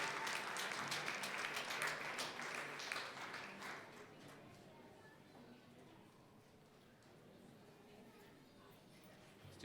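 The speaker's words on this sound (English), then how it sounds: "Please join us in a loud round of applause for our elementary students." An audience at a school board of trustees meeting applauds elementary students with a burst of dense clapping that thins and fades after a few seconds, heard faintly at a distance in a large room.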